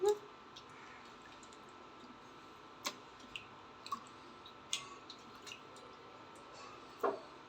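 Sparse water drips and small wet clicks sound near and quiet while fish is washed, landing irregularly in a hushed room.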